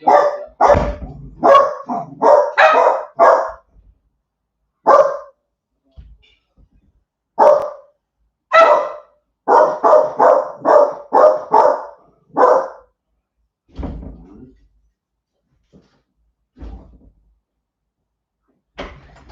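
Several dogs bark at a delivery in loud, irregular bursts, with clusters of rapid barks separated by brief pauses, alongside a few door or cupboard knocks and quieter trailing barks near the end.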